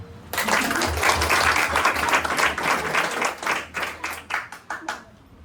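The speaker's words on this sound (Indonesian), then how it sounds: "Mana tepuk tangan?" Church congregation applauding at a Sunday Passover service, a dense burst of clapping that swells quickly, holds steady, then thins into scattered claps before fading.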